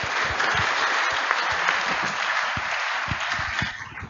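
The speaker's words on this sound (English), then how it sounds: "let's give him another round of applause" A congregation gives another round of applause at a school's 90th anniversary inaugural service: steady, dense clapping from a large crowd that continues evenly and then tapers off near the end.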